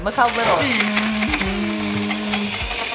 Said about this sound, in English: It's literally just as powerful as a normal blender.